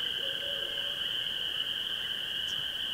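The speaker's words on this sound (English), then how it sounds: "I can hear that barred owl that was going off last night." Barred owl hooting at night in Algonquin, faint and distant, over a steady, loud drone of insects or frogs that continues throughout.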